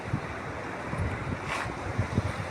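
Palar river water flowing past a riverside spot near a check dam, a broad steady rush blended with wind buffeting the microphone, continuous throughout with no voices.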